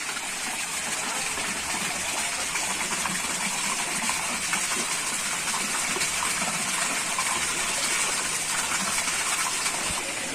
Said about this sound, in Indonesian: airnya di sini tuh Masya Allah dari pegunungan ya